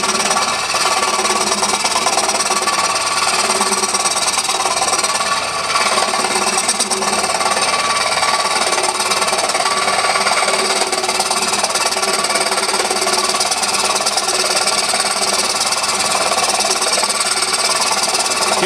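A wood lathe turns in reverse at around 500 to 600 RPM while a short stack is hollowed, giving a loud, steady, broadband rasping scrape with constant motor noise throughout.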